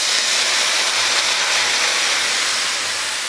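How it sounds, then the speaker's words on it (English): White wine hits a hot scallop pan to deglaze it, giving a loud, steady hissing sizzle of steam that holds evenly throughout and fades only slightly at the end, with no talk. "we're going to add a little bit of white wine to deglaze the pan over here"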